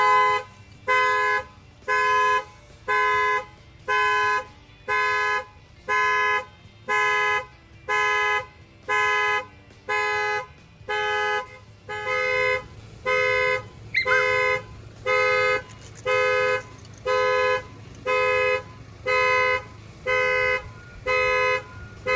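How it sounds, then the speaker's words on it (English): Factory alarm on a 2025 GMC 2500 pickup truck blaring in a steady pulsing rhythm of horn honks, roughly two per second, loud and continuous for over twenty seconds with no talking. "Your alarm is sounding on your vehicle."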